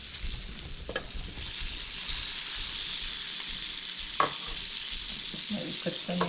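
Turkey sausage fries on a griddle with a continuous close sizzle that swells through the middle, and a few light clicks and scrapes of a utensil come near the end.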